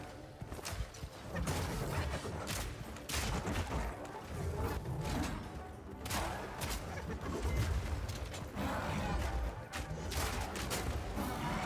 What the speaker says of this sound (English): I'm watching as the grenades just explode randomly